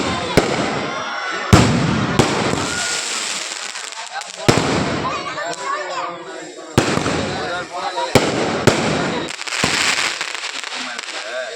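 Firecrackers and fireworks bursting in a string of sharp loud bangs with crackling tails at irregular intervals, while people shout and talk in between.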